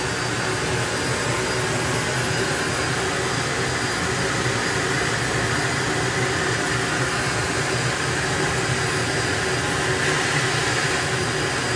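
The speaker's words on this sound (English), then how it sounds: "Richie now gives Martin the signal to wind that turbine up even more" Sikorsky Skytrain helicopter turbine engine fitted in a drag car at a sportsman nationals meet, winding up into a loud sustained jet-like whine and roar that stays steady and close throughout.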